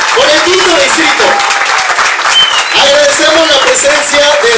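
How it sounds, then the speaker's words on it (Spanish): Loud, sustained crowd applause at a political event in Puerto Vallarta, dense clapping close up with voices rising over it at times. "Fuertes aplausos, que se escuche por el quinto distrito."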